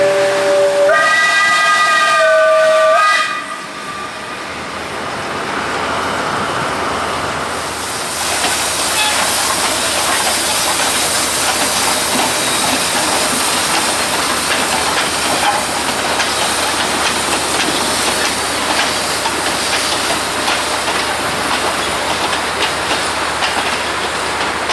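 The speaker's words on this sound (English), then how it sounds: "This steam engine is quite rare, as it's one of the only a few wood-burning steam engines left in the world." A rare wood-burning steam locomotive on a railway beside the bay at Kota Kinabalu, Sabah, blows a loud, steady whistle for a few seconds, then runs on with a continuous roaring hiss and chuffing.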